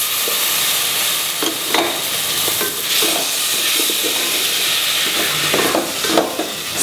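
Freshly chopped tomatoes sauteing with potatoes in a pan for veg biryani, a loud, steady sizzle with occasional stirring clinks, close, no voices.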